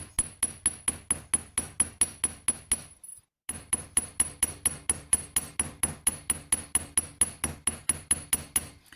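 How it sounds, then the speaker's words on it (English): Steady, rhythmic hammering on flat copper, evenly spaced sharp ringing blows, briefly pausing before resuming at the same pace, close by. "gently go around and hammer that so that it stays flat"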